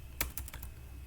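A few keystrokes on a computer keyboard during spreadsheet data entry, a sharp louder key press followed by three lighter quick taps, close and clear over a faint steady hum.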